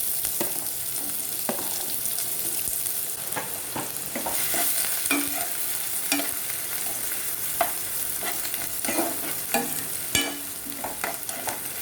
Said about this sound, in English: onions become golden brown. We have to saute until then.